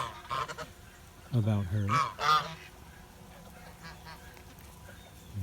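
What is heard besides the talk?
geese honking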